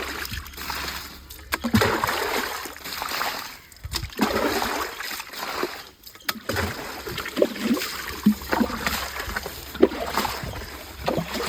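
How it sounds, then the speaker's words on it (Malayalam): Water scooped by hand out of a koi fish tank, giving repeated sloshing splashes and trickles in an uneven rhythm, close by, with occasional faint voices in the background. "അങ്ങനെ നമ്മൾ ടാങ്കിലെ വെള്ളം കോരിക്കളഞ്ഞ് മീനിടാൻ പോവുകയാണ്."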